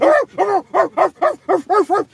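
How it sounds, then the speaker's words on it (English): A dog barks in a rapid, loud series of about eight close yaps in a TV show scene, evenly spaced and alone with no talk over them. "Then Martin goes over and grabs the dog"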